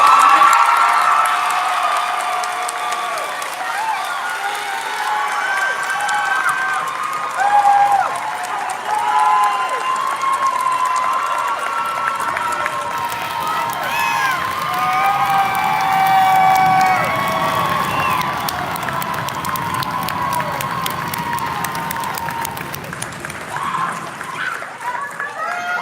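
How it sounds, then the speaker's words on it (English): Graduation ceremony audience at a creative arts and science magnet school applauds and cheers for the graduating students, a long sustained wash of clapping with shrill whoops and children's shouts rising throughout. "these students a round of applause"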